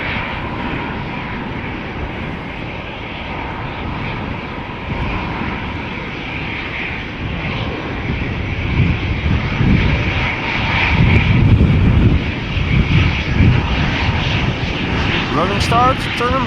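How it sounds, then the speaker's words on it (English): A 22-year-old Airbus A320 jet airliner at Schiphol airport gives a steady, loud engine roar that swells toward the middle and stays strong, with someone talking over it. "A320, 22 years old, first flight February"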